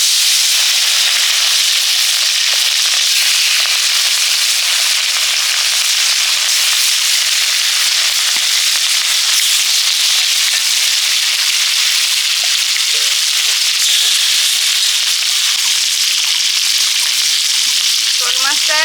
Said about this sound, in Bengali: এবার শোল মাছগুলো ভেজে নেবো